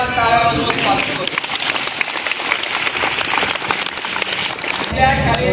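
A crowd claps steadily to welcome foundation members at a school event handing out school bags and compass boxes. The dense clatter runs throughout, briefly thinning before rising again near the end.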